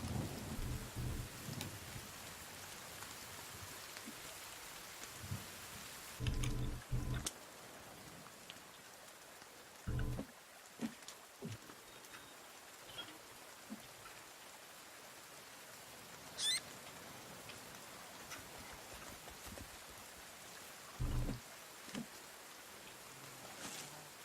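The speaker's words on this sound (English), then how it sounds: "Now it's raining." Steady patter of rain with occasional rumbles of thunder in the video game The Forest, fairly quiet and continuous, no talking.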